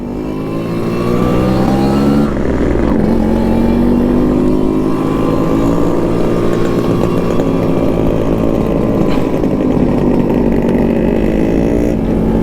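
A Yamaha RXZ two-stroke motorcycle engine running right after a push start, a loud close buzzing idle with rising and falling revs and a raspy whine lasting throughout, with no talking.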